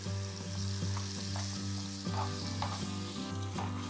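Carreteiro rice frying and being stirred in a pan in the Pantanal, a steady close sizzle with soft scraping strokes of the spoon repeating every half second or so, no voices.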